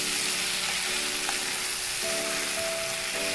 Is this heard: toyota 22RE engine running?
no